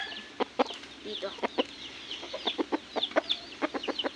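Several chickens cluck nearby in quick, irregular bursts, overlapping soft clucks and short calls with no one talking.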